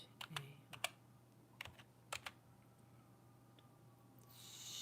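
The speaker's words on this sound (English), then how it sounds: "Typing in." Fingers tapping on a handheld tablet screen, a few soft close taps in small clusters over a quiet room with a low steady hum.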